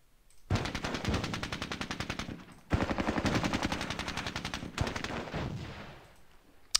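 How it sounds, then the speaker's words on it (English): Three long bursts of rapid machine-gun suppression fire in the strategy game Squad Battles: Tour of Duty, each a dense rattling stream of shots that fades slightly before a brief pause. "Let's lay down some suppression fire with this team here"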